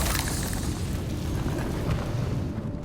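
A sustained fiery blast from the Confringo spell in Hogwarts Legacy booms and rumbles for a few seconds at steady loudness before easing off slightly at the end.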